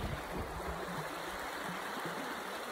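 A creek's water flows in a soft, steady rushing babble, quiet and continuous with no breaks and no voices.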